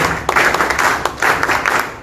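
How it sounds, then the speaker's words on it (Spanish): Audience applause for a speaker at a citizen security forum: steady, dense clapping from a crowd, loud and close, swelling in a few waves over about two seconds with no voices on top. "fuertes palmas a Luis Fernando Lindo"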